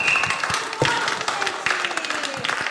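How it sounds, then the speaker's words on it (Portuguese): Children's TV show audience applauding, steady mixed clapping and tapping under a bright tonal music line, moderately loud and continuous throughout. "Aplausos para Bimba!"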